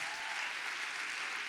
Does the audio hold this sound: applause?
yes